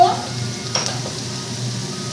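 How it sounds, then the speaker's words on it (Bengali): Chopped onions sizzle steadily in a hot pan, with a scrape of the spatula as they are stirred, close and moderately loud with no talk. "একটু নাড়াচাড়া করে নিয়েছি পেঁয়াজগুলো আমি পুরো লাল করে ভাজবো না"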